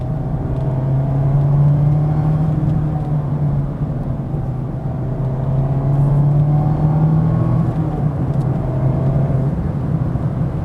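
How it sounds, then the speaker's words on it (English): A 2025 Mazda Miata Grand Touring convertible driving on West Virginia backroads, heard from inside as a steady, loud engine and road drone with slight swells in pitch and no talking. "Because this car is a convertible, you'll notice that the top will rattle. It does make more noise."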